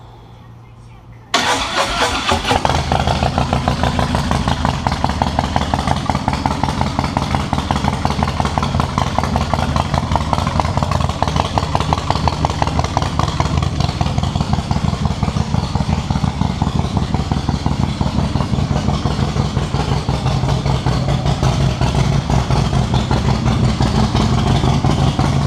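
A 2013 custom Harley-Davidson Road King fires up after a brief quiet moment, then settles into a loud, steady, close-up idle with a deep lumpy V-twin rumble that holds without revving.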